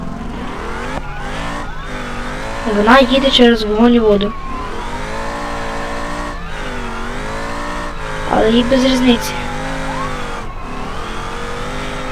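An American car in BeamNG.drive, damaged and running without a front wheel, with a steady engine drone and brief revving surges under someone talking throughout.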